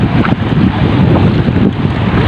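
Strong northeast monsoon wind roars continuously against the microphone during shore fishing in waist-deep water, a rough, buffeting rumble with a faint watery wash beneath.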